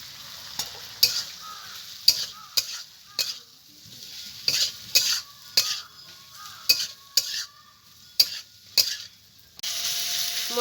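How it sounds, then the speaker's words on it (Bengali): Fried snake gourd stirred into a sizzling spice masala for a prawn dish, with a utensil scraping the pan in repeated sharp strokes over a steady close frying hiss, no talk. "মশলাটা ভালো মতো কষিয়ে নিয়েছি, এবারে ভেজে রাখা চিচিঙ্গাটা দিয়ে দেবো।"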